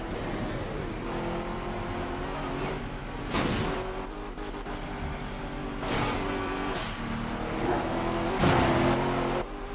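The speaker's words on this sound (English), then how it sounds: "Because I am driving a Skyline after all." A Nissan Skyline engine in a Midnight Club 3 street-race replay in Tokyo, droning steadily while it revs up and down through gear changes, with whooshing passes and a louder surge near the end.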